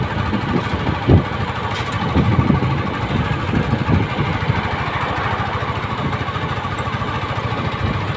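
Motorcycles ride alongside on a road in Dagupan, Pangasinan, their engines a steady close drone that runs the whole time with small surges, loud and unbroken.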